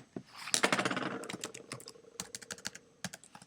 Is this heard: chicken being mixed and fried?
no